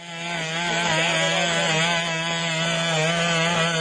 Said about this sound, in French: Alors c'est pas une tronçonneuse, c'est juste le bruit que faisait ce robot.